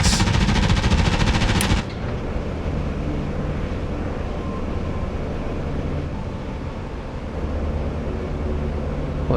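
In a World War II-style war video game, enemy tanks open fire with a loud, rapid burst of automatic gunfire lasting under two seconds, followed by a steady low rumble of engines and battle ambience, with no talking.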